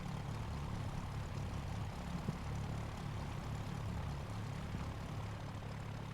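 A Cessna 172 floatplane in the X-Plane 11 flight simulator taxis on the water, its propeller engine a steady low droning hum, quiet and unbroken, with no one speaking.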